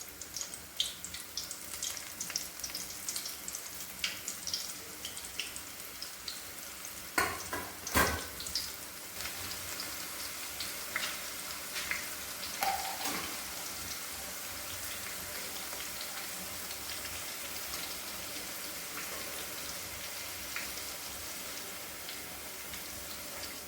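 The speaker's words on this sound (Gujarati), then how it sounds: "રીંગ સેજ બ્રાઉન થાય ત્યાં સુધી આપણે તેને તળવાની છે।" Chili pepper ring bhajiya fry in oil until lightly brown, giving a steady hiss of bubbling oil with a few brief clinks and scrapes near the start, continuous and fairly close with no talk.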